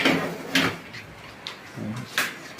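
An aluminum cabinet drawer slides open with a few quick scraping, clicking movements, heard close by and fairly quiet, with no voices.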